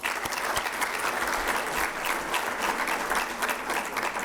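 Conference audience applauding two visiting government ministers at a Moroccan employment event, a sustained, even round of dense clapping from a large crowd throughout.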